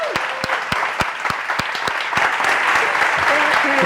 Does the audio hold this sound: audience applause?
yes